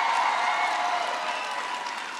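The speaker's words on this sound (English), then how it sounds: "Can everybody please give Kelly a big round of applause for the great introduction" A large audience at Concord High School in Elkhart gives sustained applause and cheering at a political speech, a loud, dense crowd roar that holds steady and slightly eases over a couple of seconds.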